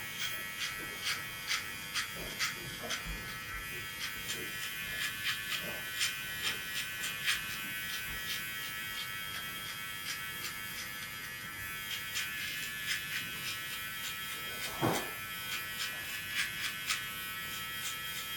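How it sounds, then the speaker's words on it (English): A self-cut system finisher trimmer buzzes through a self-administered skin fade haircut, its high electric drone steady and close, with small rhythmic pulses as it passes over the head. "Now I'm going to get my trimmer, my self-cut system finisher trimmer."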